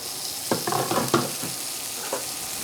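Green beans and garlic sizzling in a hot pan, a steady bright frying hiss with several stirring scrapes and clacks on top, close and without talk.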